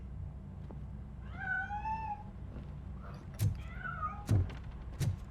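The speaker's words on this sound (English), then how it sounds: "That cat must be hiding inside." A cat meows a few times in Robocop: Rogue City, drawn-out wavering cries heard from hiding, mixed with a few dull thuds over low background noise.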